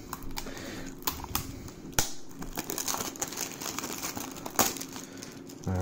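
A plastic-wrapped Nintendo Switch game case for Langrisser 1&2 is opened with a set of keys. Close, irregular crinkling and scratching comes with sharp clicks and snaps as the wrap is cut and torn, with no talking.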